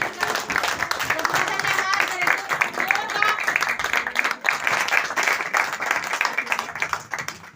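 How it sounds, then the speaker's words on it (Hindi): Loud congregation clapping at a Sunday church meeting, rhythmic and energetic, with voices and exclamations riding over the claps throughout. "जोरदार ताली"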